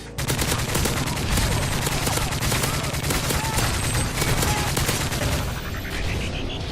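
Dense rapid gunfire from Modern Warfare 3 multiplayer, loud continuous automatic bursts with overlapping shots and a rising electronic tone near the end.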